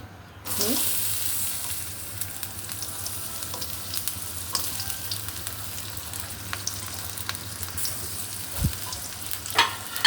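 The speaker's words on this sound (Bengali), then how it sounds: "পেঁয়াজটা বেশি ভাজবো না একটু হালকা করে" Sliced onions and plenty of green chillies hit hot oil with a sudden loud hiss that settles into a steady close sizzle, with occasional light clinks and stirring knocks toward the end.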